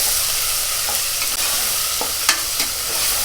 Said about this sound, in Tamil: ஒரு தக்காளிங்க. தக்காளி நல்லா வதக்கிக்கலாம்.